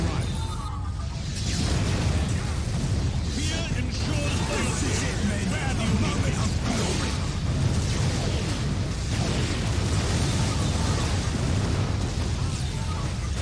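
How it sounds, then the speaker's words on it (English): Rapid explosions and bursts from an air strafing run in the Warhammer 40,000 strategy game Dark Crusade, Imperial Guard side, a dense continuous barrage of blasts and mechanical clatter with a voice talking over it. "Control. Initiate strafing run."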